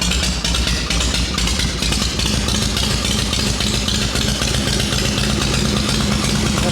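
A Shovelhead chopper motorcycle engine runs after its first start following winter, with a loud, close, rumbling idle and a fast, uneven, clattering beat that continues throughout.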